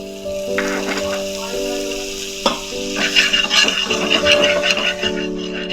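Spices frying in butter in a pan crackle and sizzle close by, with the frying growing busier midway while steady musical tones play underneath.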